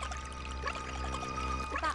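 Watery pouring and spraying from enemies spitting water in the video game Pikmin 3, a steady gushing stream under game music with brief splashy bursts.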